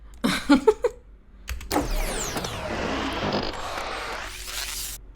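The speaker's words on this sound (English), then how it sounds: "Yeah, sci-fi mechanism, power on, heavy." A heavy sci-fi machine powers on: a few clanks, then a long grinding, whirring sweep that builds and shifts, loud and alone.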